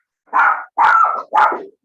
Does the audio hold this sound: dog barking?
yes